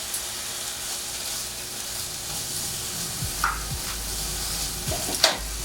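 Prosciutto frying in a pan alongside Brussels sprouts with a squeeze of olive oil, giving a steady, close sizzle with occasional stirring scrapes and small pops near the end.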